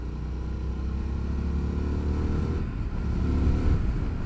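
An Indian FTR S motorcycle, the 2021 version with a 17-inch front wheel, accelerates hard with a loud, close, deep rumbling engine note that climbs steadily and briefly dips before pulling again.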